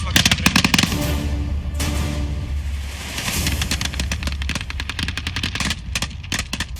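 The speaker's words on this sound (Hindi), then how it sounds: "हैवी आर्टिलरी का यूज हो रहा है इस वक्त यहाँ पर।" Rapid bursts of machine-gun fire and sharp gunshots crackle continuously in a combat zone against ISIS fighters, with heavy booming shots mixed in, loud and sustained throughout.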